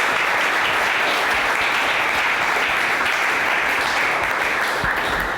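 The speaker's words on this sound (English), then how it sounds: "round of applause for our panel" Sustained audience applause for a conference panel fills the room, a dense, steady wash of many hands clapping at even loudness throughout.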